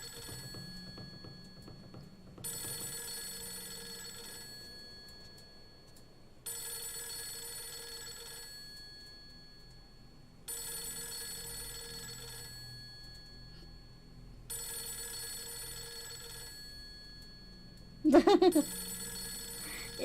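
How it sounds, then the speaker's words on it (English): In the horror video game Fatal Frame III, a telephone rings in evenly spaced electronic bursts, five rings with short silences between, followed by a brief rustle at the end. "Oh, that phone scared me."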